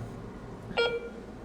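A single short electronic beep, close and clear, rising out of a quiet room background and lasting about a quarter second with no talk.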